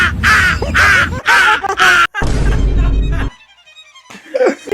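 A man imitates a crow, giving several loud, harsh caws in quick bursts up close, followed by quieter voice sounds at the end.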